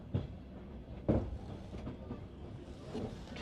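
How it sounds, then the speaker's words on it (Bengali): A train on a long journey in Kazakhstan pulling along slowly, low rumbling rolling noise with a few soft thumps and clanks, heard from inside at a moderate level. "ট্রেনের স্পিড এখন বাড়তেছে না, আস্তে আস্তে টানতেছে"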